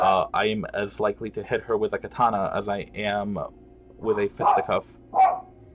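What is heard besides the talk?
dogs barking in the house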